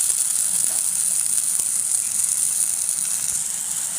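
Cumin paste sizzles in hot oil on a clay stove, making a loud, steady, close hiss with faint crackles throughout.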